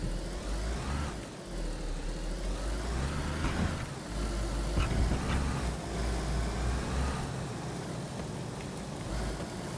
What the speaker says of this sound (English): I like how they get the engine sounds right.